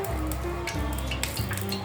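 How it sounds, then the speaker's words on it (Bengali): Whole garam masala and dried chilies fry in about a cup of mustard oil for achari chicken, making a close, steady sizzle that runs throughout the brief moment. "আমি এখানে গোটা গরম মশলা দিয়ে দিব, শুকনো মরিচ দিয়ে দিলাম। আমি একটু ভেজে নিব"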